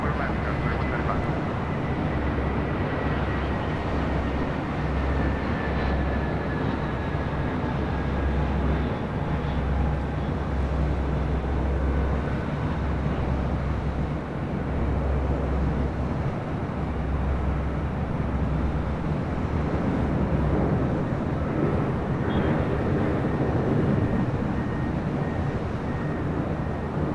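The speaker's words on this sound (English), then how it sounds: "Porter Airlines Flight 663 coming from Toronto." Porter Airlines passenger jet arriving at LAX from Toronto, a steady loud engine roar with a slowly falling whine, continuous for the whole stretch with airport ambience around it.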